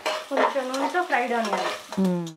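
Onions fry until reddish for chicken biryani, crackling and stirring in the pan beneath a voice that runs over most of the stretch.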